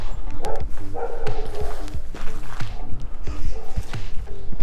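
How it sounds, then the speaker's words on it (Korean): A nearby dog barks repeatedly at a stranger in short, sharp bursts, with outdoor ambience and some shuffling underneath, in a hidden residential alley in Jongno-gu, Seoul. "외지인을 알아보는 강아지인데요"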